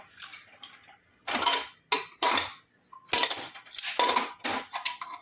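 A pressure cooker of cooked matki (moth beans) is opened after four whistles, giving sharp metallic clanks and scrapes of the lid and pot in bursts, close and fairly loud, with short quiet gaps between.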